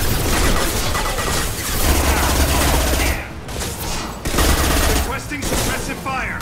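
Sustained gunfire in a Mass Effect 2 firefight, loud, dense bursts of automatic weapon fire with brief lulls, an explosive boom near the end, and voices calling out over the shooting.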